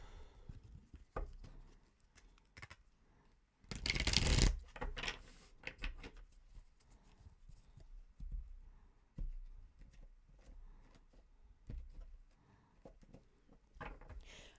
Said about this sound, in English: I'm going to split the deck to get another energy card for you.